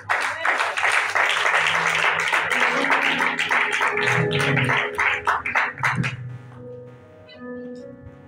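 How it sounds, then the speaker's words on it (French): A church congregation applauds loudly and together, with voices and a sustained tone beneath. The clapping stays strong for about six seconds, then fades away, leaving softer tonal sound. "Acclamons très fort la parole du Seigneur"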